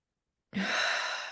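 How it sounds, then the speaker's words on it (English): A person exhales slowly and audibly during a guided relaxation breathing exercise: one long, close, breathy outward breath that starts abruptly after silence and holds steady to the end. "breathing out"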